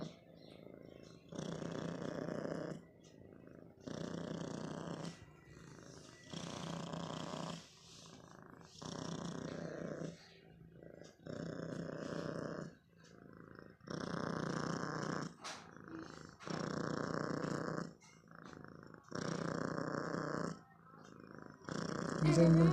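A cat purrs right up close in slow, rhythmic cycles, each rumbling burst lasting about a second with brief pauses between breaths, repeating steadily throughout.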